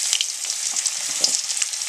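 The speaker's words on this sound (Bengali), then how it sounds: "পাঁচফোড়ন দিয়ে দিয়েছি, পাঁচফোড়নটা একটু ভাজা হলে এই আলুগুলো" Sweet potato pieces frying in hot oil with panch phoron, the Bengali five-spice mix, give a steady close crackling sizzle with small pops throughout, no talking.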